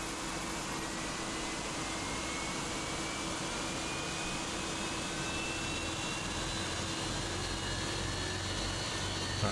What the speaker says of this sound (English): And we will start the engines.